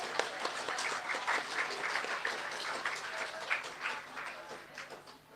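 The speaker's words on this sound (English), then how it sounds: "Let us give them a round of applause." Steady applause from the audience at a primary school graduation ceremony for the class of 2022, a dense, even patter of many hands, fairly distant and soft, swelling slightly before tapering off.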